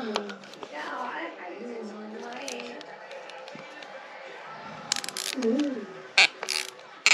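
A wrench works on a heated, thread-locked rim bolt on a Dualtron electric scooter. Ratchet-like mechanical clicks and knocks come up close, with a sharper burst of metallic cracks near the end as the bolt gives way.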